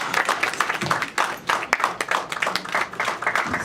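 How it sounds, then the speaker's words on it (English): An audience at a church prayer and fasting day safety talk claps for police officers, a dense, steady patter of many hands with slight swells and no voices over it. "Can we just have another round of applause for our wonderful officers?"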